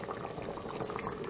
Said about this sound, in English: So I'm just going to let this simmer.